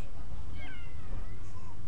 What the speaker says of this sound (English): she thought she heard another cat cry.